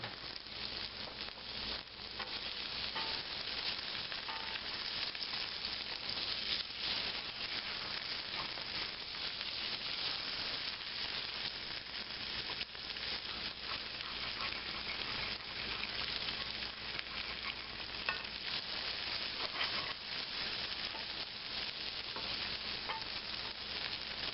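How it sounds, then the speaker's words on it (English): Potato and onion cook in a greased pan for a sheepherder breakfast, making a continuous soft sizzle and crackle with faint stirring scrapes, fairly quiet and steady throughout. "put the potato in and the onion to cook until it's done"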